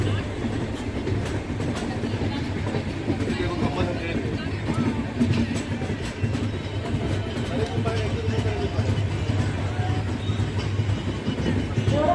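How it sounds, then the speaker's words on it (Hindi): Kashi Patna Jan Shatabdi Express (15125) pulling out of a station after a halt on the Banaras to Patna run, with a steady loud rumble of rolling wagons and faint clickety-clack throughout, and a voice talking over it. "अब ये ट्रेन यहाँ से डिपार्चर ले रही है"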